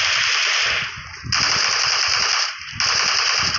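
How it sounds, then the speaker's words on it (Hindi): Rapid automatic gunfire in the video game PUBG Mobile rattles in loud, continuous bursts with brief dips between them, dense and close throughout. "लेकिन ये इस बंदे की आखिरी फायरिंग थी"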